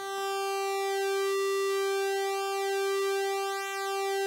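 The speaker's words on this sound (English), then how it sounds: "you can hear something that sounds similar to maybe a flanger or a phaser, and also something like a comb filter" A steady Hydrasynth synthesizer tone with a slow sweeping phaser-like shimmer moving through its upper harmonics, alone and continuous.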